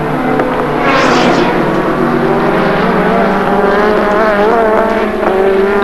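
Race cars at the 1989 AMSCAR round at Amaroo Park, including a Ford Sierra and a V8 Holden Commodore, roar past loudly and continuously, engines droning with a rising whine as they charge by.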